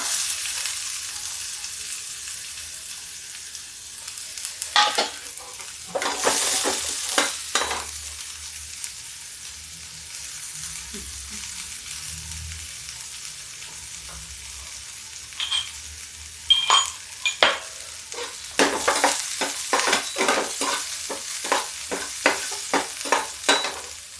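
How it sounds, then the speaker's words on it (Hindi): Onion and garlic fry quietly in a pan for masoor dal, giving a low, steady sizzle. Intermittent bursts of stirring scrapes and clatter come and go over it. "प्याज पक रहा है, इसको पकने देते हैं।"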